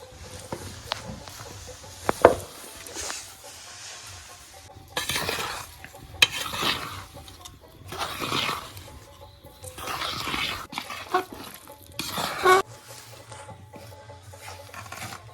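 Soaked coconut, semolina and rice flour are kneaded together by hand for coconut fritters, making soft squelching, rubbing bursts with occasional clinks of a plate or pot, close and fairly quiet, with no talking.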